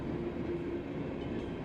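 A train passes near a tower, and its rumble and wheel noise are loud and steady throughout, with no talking.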